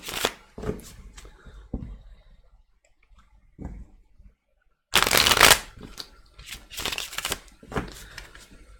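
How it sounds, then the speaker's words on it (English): Tarot cards being shuffled up close: several bursts of riffling and tapping with quiet gaps, then a louder, longer run of rapid shuffles. "One more shuffle."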